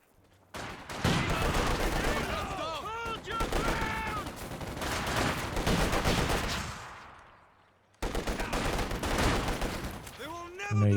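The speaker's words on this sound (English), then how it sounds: "that sounded like a heavy barrage" A heavy artillery barrage in the Company of Heroes 2 war game thunders as loud, overlapping bursts of shell fire that fade, cut off briefly, then resume, with voices talking amid the blasts.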